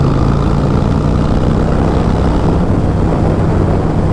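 A Harley-Davidson Iron 883 motorcycle engine drones steadily while riding, a loud, close, continuous low rumble mixed with wind noise and no voices.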